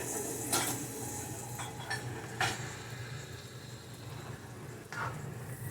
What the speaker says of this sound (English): I'm going to saute it in the olive oil. I'm also going to throw a little bit of garlic in there, minced garlic